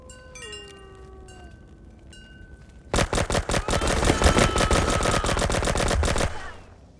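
Sustained video game gunfire from a weapon loaded with armor-piercing rounds, a rapid automatic burst of loud, evenly spaced shots lasting several seconds before trailing off, following quieter electronic tones.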